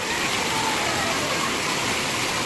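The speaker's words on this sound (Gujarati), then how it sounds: "ભયંકર વરસાદ ચાલુ થયો છે અત્યારે" Heavy monsoon rain pours down in Junagadh as a dense, steady roar of broadband hiss with no breaks, fairly loud and even throughout.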